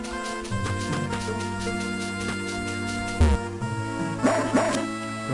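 A stray dog in the video game Mother 3 barks in repeated chiptune-style yips over looping game music, loud and close, with whimper-like bleeps near the end.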